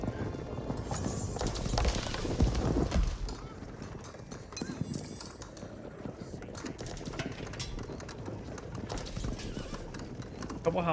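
Horses gallop across the battlefield in the video game Age of Empires 4, a busy patter of hoofbeats with an occasional whinny, heard fairly faintly under battle noise and a commentator talking.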